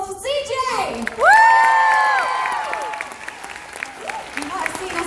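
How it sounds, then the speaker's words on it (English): An audience at the MCM Manchester 2019 masquerade breaks into applause and cheering, with loud whoops and excited shouts rising over steady clapping throughout. "let's have another round of applause for CJ!"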